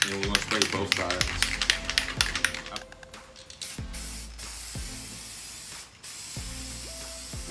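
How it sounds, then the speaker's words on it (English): Copper gasket spray from an aerosol can sprayed onto a B-series cylinder head gasket, in several bursts, the first two seconds busy with rapid taps, then longer steady hisses separated by short gaps. "So just shake this up real good, and we're gonna spray both sides."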